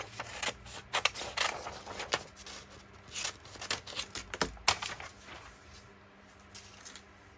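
Scissors snip through paper while cutting pieces for a junk journal, a string of short crisp cuts and rustling paper handling in uneven bursts, close and fairly quiet, with no talking.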